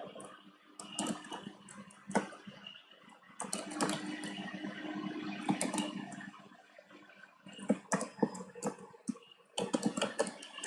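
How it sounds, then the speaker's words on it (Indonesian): Keystrokes on a computer keyboard while entering database connection code, dense irregular clicking in bursts with short pauses, close and fairly quiet, with no talking. "Contohnya saya ketik dulu"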